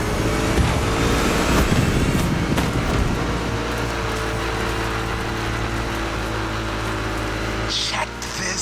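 A rally raid prepped Ford Mustang GT in The Crew Motorfest drones with a steady, loud engine note, holding a constant roar with wind noise and a brief change near the end.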